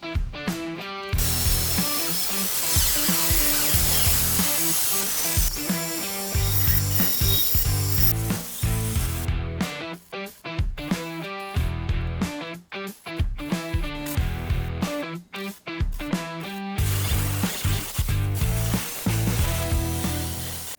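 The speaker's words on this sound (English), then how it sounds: "we'll cut to a montage of me cutting, grinding, welding and generally making a mess." Metalwork for a staircase build: cutting, grinding and welding metal, heard as a loud, dense stretch of harsh grinding and sawing noise with abrupt stops and restarts and no speech.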